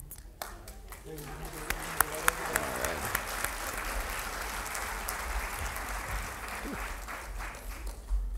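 A round of applause for art and essay award winners at an awards ceremony: a crowd claps steadily at moderate volume, with voices talking underneath and a few louder claps standing out.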